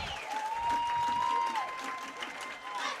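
A crowd at Torbert Field applauds and cheers through a high school football game between Chambers Academy and Bessemer Academy, a steady wash of clapping with a high whistle-like tone riding over it.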